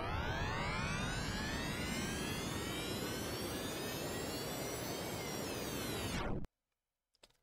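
A spaceship thruster in a homemade Starfield-like video game gives a loud, steady roar with a rising whine for about six seconds, then cuts off abruptly into near silence.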